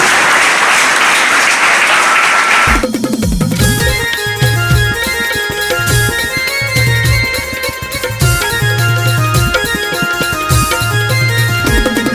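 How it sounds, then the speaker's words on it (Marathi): Congregation clapping at a church New Year service: a dense burst of applause for the first few seconds, then giving way to loud music with a steady beat, melody and rhythmic accompaniment that carries on to the end. "जोरदार पिता पुत्र માટે તાળી પાડીને અભિવાદન કરો"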